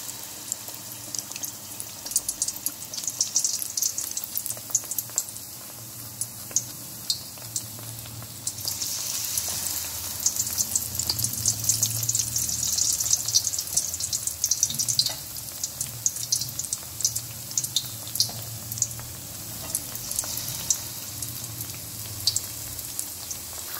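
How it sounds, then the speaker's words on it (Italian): Battered salt cod fries in hot oil with a constant, fine crackling sizzle that rises in intensity partway through, close and steady, with no talking. "Le avvolgiamo nella pastella e andiamo a friggere"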